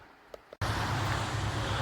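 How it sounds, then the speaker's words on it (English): Traffic on the highway beside the old Leitch coal mine ruins at Crowsnest Pass, Alberta, rises abruptly after a quiet start into a loud, steady broadband roar with some wind noise mixed in. "As you could probably hear by all the traffic noise."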